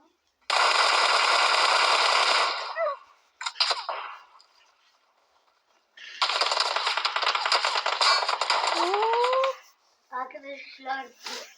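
Shooter video game gunfire with two long sustained bursts of rapid automatic fire, loud and close, plus short shots in between; a voice talks in the gaps.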